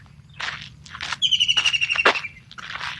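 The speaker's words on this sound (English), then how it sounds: "Nice bird, huh?" A bird calls clearly with chirps and a sustained whistled note, heard in the open during Ramadan in the UAE among other faint sounds.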